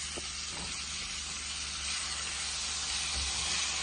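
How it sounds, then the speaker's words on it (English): Onion and tomato seasoning is stirred with a spatula in a pot for a Jamaican vegan ackee and broad bean dish, giving a soft, steady sizzling hiss with faint stirring touches at low volume. "I'm going to give that a good stir."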